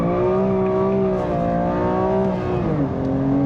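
A BMW M2 Clubsport road car drives at a steady clip, its engine drone loud and close with a harmonic hum that dips slightly near the end as it slows under light braking.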